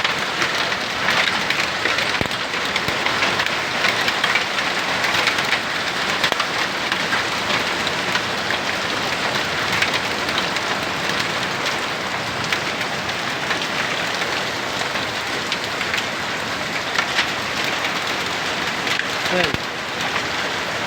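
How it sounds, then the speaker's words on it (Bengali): Heavy rain mixed with plentiful hail pours down steadily, a loud, dense and continuous patter with no letup. "বৃষ্টি যেমন তেমন শিল প্রচুর পরিমাণে"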